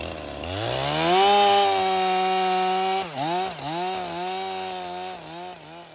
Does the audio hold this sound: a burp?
no